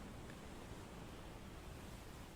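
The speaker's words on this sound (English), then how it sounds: "you can still hear the sound of scratching metal before the sound of water and waves" Water and waves wash over a sinking ship in a tabletop fantasy game scene, a soft, continuous rushing roar with no distinct breaks, heard alone.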